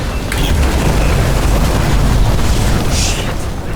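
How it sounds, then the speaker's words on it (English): A deep, sustained boom as fuses blow in a video game, a loud rumbling roar that fills the whole moment with a brighter hiss flaring near its end. "Fuses just blew."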